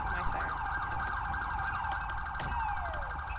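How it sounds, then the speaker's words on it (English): A police car siren from the video game FiveM (GTA V) wails in rising and falling sweeps, then shifts to a faster yelp before winding down, fairly loud and steady over background road noise. "I'm gonna turn off my siren."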